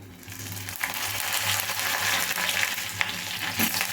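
Mustard seeds, cumin, dried red chillies and curry leaves sizzle and crackle steadily in hot oil for tempering, with a few sharp pops rising over the constant frying hiss.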